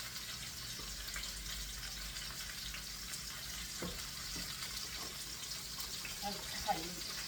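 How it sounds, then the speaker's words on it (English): Mushrooms frying in a pan, a quiet continuous sizzle with faint water-like hiss and a few light clicks of utensils, while someone talks quietly over it. "You're actually cooking all the mushroom liquid out."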